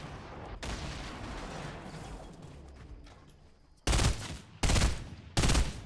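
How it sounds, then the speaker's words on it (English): Bursts of rapid gunfire from Fortnite Battle Royale gameplay: a sharp opening shot, sustained firing, then three loud, close bursts of automatic fire toward the end, with no talk. "What a great gun."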